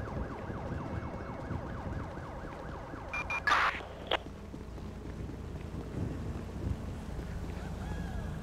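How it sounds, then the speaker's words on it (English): A wailing ambulance siren sweeps repeatedly in GTA V amid traffic and wind rumble, moderately loud with a rising and falling cycle, punctuated by a couple of short sharp clanks midway. "We got an ambulance coming."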